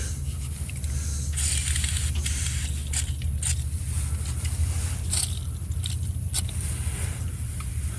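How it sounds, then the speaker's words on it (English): Several short hissing bursts of aerosol lubricant sprayed on rusted bolts of a 1979 Ford F100, spaced a second or two apart, over a steady low mechanical hum. "try to spray some lubricant on them"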